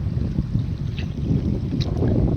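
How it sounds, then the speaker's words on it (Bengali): A rowboat moving across a choppy, wave-tossed river, with continuous low rumbling water and wind buffeting, a few faint splashes near the hull, close and fairly loud, no speech. "নৌকা বেয়ে বেয়ে কিন্তু এগিয়ে যাওয়া হচ্ছে"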